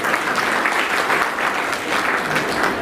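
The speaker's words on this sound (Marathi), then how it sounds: "जोरदार टाळ्या वाजवा तिच्या." An audience at a public lecture event in honour of Basaveshwar Maharaj claps in a sustained, fairly loud burst, the many hands forming a steady, slightly pulsing roar that continues without talk.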